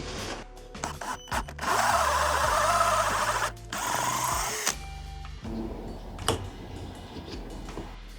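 A cheap Temu dowel maker cuts into a thick piece of sapele wood, a steady loud grinding whir that holds for a few seconds, stops briefly, then resumes at a lower, rougher level with small knocks.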